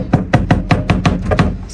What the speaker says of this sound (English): Sorry for the noise. Doors are always fun.